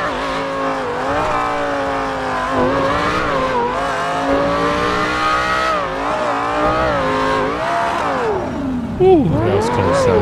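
A high-revving car engine in GTA 5 whines loudly and steadily, pitch rising and falling through gear changes, ending with a brief tire squeal.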